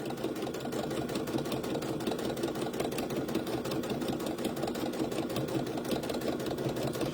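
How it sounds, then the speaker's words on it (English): A sewing machine back stitches a baby bib of fabric with vinyl tablecloth lining, its motor and needle giving a steady, close, rapid mechanical chatter without a break. "So now I'm just back stitching."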